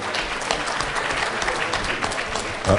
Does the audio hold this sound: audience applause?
yes